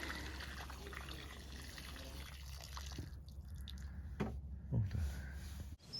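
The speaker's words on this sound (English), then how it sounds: "all that remains is just to water the tree in well" Water pours onto the soil around a newly planted seven son flower tree, giving a steady splashing rush with a few drips and squishing sounds near the end.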